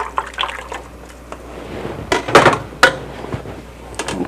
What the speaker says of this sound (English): sauce here and pour it on in